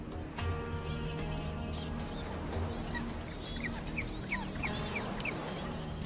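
A breeding penguin colony calls at nesting season, a dense chorus of overlapping squawks and brays, some near and some farther off, running continuously at moderate level.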